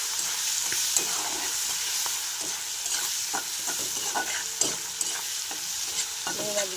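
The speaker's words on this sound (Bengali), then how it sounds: "পাঁচফোড়নগুলো ভাজা ভাজা হয়ে গেছে এবার আমি মাখানো চিংড়ি মাছগুলো ভেজে নেব" Close sizzling of marinated prawns frying in oil with five-spice (panch phoron), punctuated by repeated scraping and clinking of a spatula stirring the pan.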